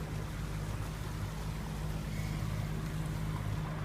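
A sailboat motors under engine power in dead calm, its steady low engine drone running without a break under a constant wash of water, close and fairly loud, with no voices.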